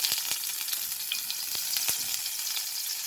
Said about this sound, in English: I have heated 1 tablespoon of oil and now I will add the garlic cloves first